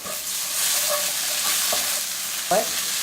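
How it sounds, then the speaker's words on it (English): Chili powder is stirred into green mango chicken in a hot pan: a steady close sizzle runs throughout, with soft scraping strokes and a brief clatter near the end. "Mix it well."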